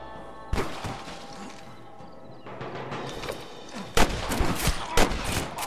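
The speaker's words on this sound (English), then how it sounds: "That had to be a headshot." Gunshots in the video game Red Dead Redemption during a cliffside shootout at Pike's Basin, several loud cracks with echoing tails over a steady background of game ambience and music.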